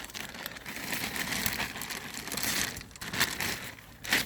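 Close, soft crinkling of thin plastic, rustling in uneven bursts with brief pauses, fairly quiet and with no voices.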